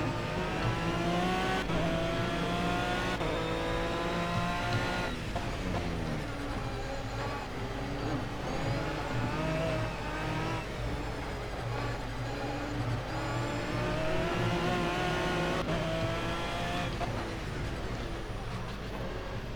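An Aston Martin V12 Vantage GT3 engine in a racing video game at Le Mans Circuit Bugatti drones loudly and continuously, rising and falling in pitch through repeated revs and gear changes with no voices.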